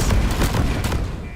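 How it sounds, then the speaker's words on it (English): Booming explosions go off close by in the mining video game Deep Rock Galactic, dense loud blasts filling the whole stretch with a continuous rumble and crackle. "There was a couple of explosions near us."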